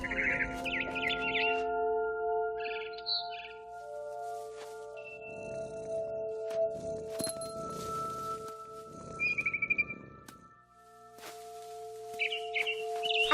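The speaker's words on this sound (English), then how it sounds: "Then I heard chirping outside my window." Barn swallow chirping in the video game What Remains of Edith Finch: short bright bird calls recur over steady tonal game music, alongside some rustling noise bursts.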